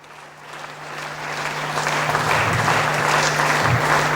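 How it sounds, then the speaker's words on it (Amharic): Applause for a top-performing master's graduate called to the stage at a graduation ceremony, a crowd's steady clapping that builds from soft to full and holds, dense and continuous over a constant low hum. "ከሁሉም ተማሪ የላቀ ውጤት በማምጣት አሸናፊ የሆነችው ዶክተር መሳይ በጭብጨባ ወደ መድረክ እጠራታለሁ።"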